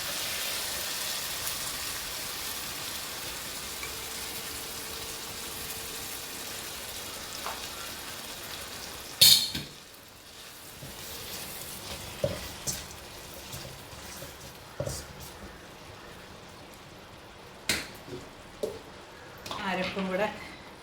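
Clam meat dropped into a hot pan for kakka irachi thoran, sizzling and crackling steadily with a few sharp clinks of the pan, while a person talks throughout.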